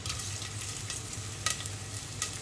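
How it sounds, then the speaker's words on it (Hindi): Finely chopped onion frying in hot ghee gives a soft, continuous sizzle with a low steady hum beneath and a couple of short crackling bursts, fairly quiet and without speech. "यहाँ पे घी को गर्म करने रख दिया है और अब इसमें मैं डालूंगी थोड़ा बारीक कटा हुआ प्याज"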